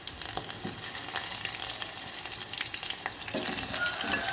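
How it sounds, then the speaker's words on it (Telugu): Onion pieces sizzling and frying in hot oil with dried red chillies, a steady close crackle with occasional stirring pops and no talking. "ఉల్లిగడ్డ ముక్కలు కూడా కొద్దిగా వేగాలండి."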